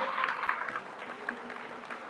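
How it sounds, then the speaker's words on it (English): Faint clapping from a school audience at a Christmas carol event, honouring the sponsors, with scattered claps and a low murmur in the room. "Please clap for them again now."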